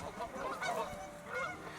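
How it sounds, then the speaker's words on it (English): Several Canada geese honk in overlapping calls, fairly close, by a lake, with a steady outdoor background hiss. "A flock of Canada geese were there to meet us"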